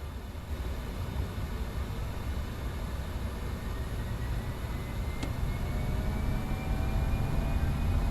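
Simulated Fokker 100 jet engines spool up for takeoff, a steady broadband roar that slowly swells in loudness over several seconds, with a faint rising whine threading through it and no voices.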